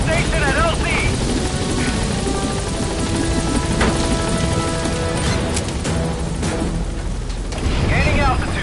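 The Pequod helicopter in Metal Gear Solid V hovers close by, its heavy rotor thump and engine roar steady and loud, with radio voices talking over it.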